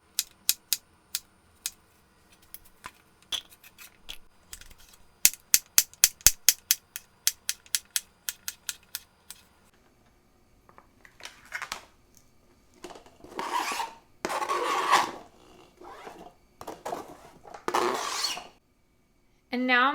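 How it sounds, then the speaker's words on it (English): A kitchen knife slices zucchini on a cutting board, first in a quick run of crisp, evenly spaced taps, then in slower, heavier chops and scraping strokes. "I'm just going to finish cutting up the rest of the zucchini like this."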